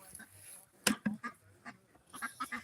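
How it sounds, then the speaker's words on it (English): Farm ducks quacking in short, separate bursts at close range outdoors, a few loud calls spaced out, with faint voices and other fowl around them. "But those are our ducks."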